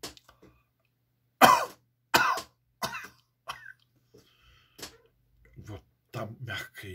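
A person coughs with the tongue stuck out as a breathing exercise against snoring, giving a series of short, breathy coughs spaced by pauses, close and fairly soft.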